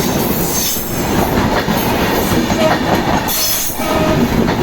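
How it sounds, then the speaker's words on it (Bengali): A fast intercity train roars past up close in rural Bangladesh, loud rumbling and rushing wind with rhythmic wheel clatter and faint metallic squeals. "ট্রেনটি আন্তর্জাতিক ট্রেন চলে যাবে আসছে অনেক গতি ট্রেনে প্রচণ্ড বাতাস"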